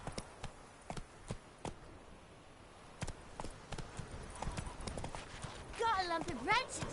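Horse hooves clip-clopping at a walk in The Witcher 3: The Wild Hunt, a soft, irregular run of hoof strikes that fades in and out, with a brief whinny near the end.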